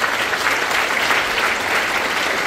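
Sustained applause from a concert audience at a Bulgarian folk ensemble performance, dense and steady clapping that fills the hall throughout without pause.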